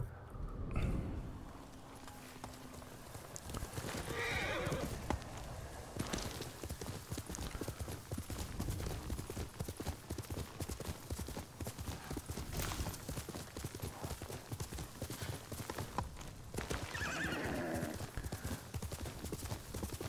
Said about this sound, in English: I love the cloppy sound on the stone.